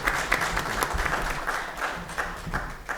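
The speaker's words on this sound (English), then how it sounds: "So round of applause for this panel here" Audience applause for a panel at a public safety and criminal justice hearing, a sustained, moderately loud patter of many hands in a large room.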